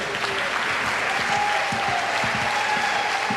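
Audience applauding fathers and grandfathers standing at the Dairy Festival Pageant, a steady dense wash of clapping throughout with a few whoops rising above it.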